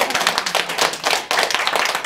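A church congregation claps hands during a sermon, a dense, steady patter of many hands filling the room at close range with no break.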